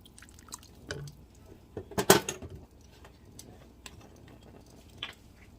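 Zuppa Toscana soup stirred in a pot, with light wet drips and scattered clinks of a spoon against the metal, one brief louder clatter in the middle, close and fairly quiet.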